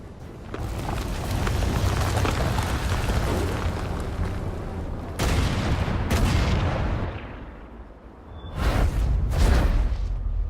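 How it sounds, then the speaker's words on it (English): Cannon fire in the video game Valkyria Chronicles 4: loud, sustained booming blasts and rumbling impacts fill the scene, with a lull, then two sharp bursts near the end and wind noise beneath. "Cannon fire!"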